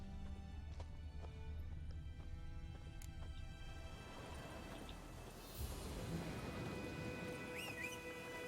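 A horse gallops in the video game The Witcher 3: Wild Hunt, with soft, quick clip-clop hoofbeats running faintly and steadily throughout.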